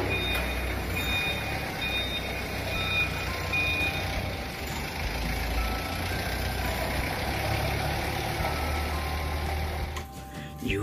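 A toy forklift emitting reversing beeps, a steady series of thin electronic beeps over a constant mechanical whir, continuous and moderately loud, ending with a brief clatter.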